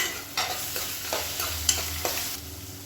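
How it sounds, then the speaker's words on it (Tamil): Onions with ginger-garlic paste sautéing in a pan for a hotel-style kurma, a soft steady sizzle broken by several brief stirring scrapes, close and moderately quiet with no talking. "வெங்காயம் லேசாக வதங்கிறதும் 1 டேபிள் ஸ்பூன் இஞ்சி பூண்டு பேஸ்ட் போட்டு வதக்கிக்கலாம்"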